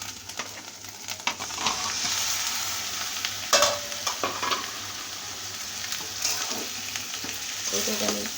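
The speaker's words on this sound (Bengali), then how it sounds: "বেগুনগুলো ভালো করে কষিয়ে নেব" Cut eggplant pieces fry with spices in a pan for an egg and eggplant dish, a continuous close sizzle broken by frequent stirring scrapes and clinks of a spatula, without any talking.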